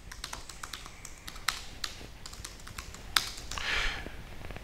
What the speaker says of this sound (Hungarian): az a minőségi kopogós hangja van a billentyűzetnek, a leütéseknek